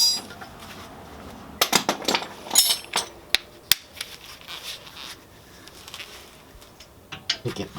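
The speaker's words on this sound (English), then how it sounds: "Get myself an impact ratchet." An impact ratchet rattles in short, sharp bursts of metallic clatter and clicks while working on the rear suspension of a Mercedes-Benz W140 400SEL, with quiet pauses between the bursts.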